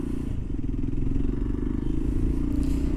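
A motorcycle being ridden, heard as a loud, continuous low engine rumble with wind buffeting, steady and close throughout.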